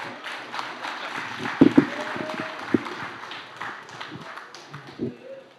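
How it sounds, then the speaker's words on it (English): An audience at a political assembly in Trinidad and Tobago gives scattered, loose applause with a few sharp, close claps, fairly faint and uneven, while a voice speaks over it. "I deserve another round of applause."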